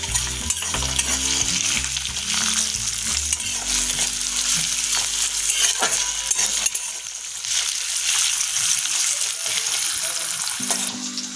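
Chopped carrot fries in a pan with a loud, steady sizzle, while a spatula scrapes and clinks against the metal at close range and faint voices murmur in the background.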